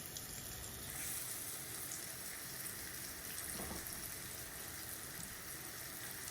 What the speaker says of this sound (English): I do fry my fish in olive oil